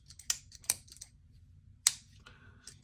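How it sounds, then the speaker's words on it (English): Sharp clicks from a heavy-bladed Pickled Steel Warhog pocket knife as its crossbar lock snaps, with a stub pin stop, a few distinct close-up clicks spaced apart in a quiet room. "Got a satisfying click on the close."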